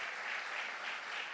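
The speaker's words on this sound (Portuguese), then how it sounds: "pode aplaudir Jesus" Church congregation at a Brazilian family worship service applauding, a soft, even wash of many hands clapping heard from a distance for a brief moment.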